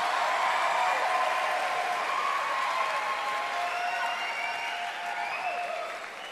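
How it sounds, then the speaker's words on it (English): A large audience at the Sydney Opera House claps loudly and continuously during a live concert, with a dense wash of applause that tapers slightly at the end. "the applause she got was much bigger than mine"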